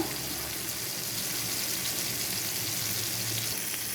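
Chicken tikka sizzles steadily on a hot tawa, a dense, continuous frying crackle that stays close and even throughout with no voices.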